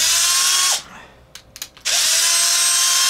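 Whirring power tool loosening bolts on a crashed Traxxas XO1 RC car, a steady high-pitched spin that winds down, a few short clicks and taps, then spins up again, close and loud.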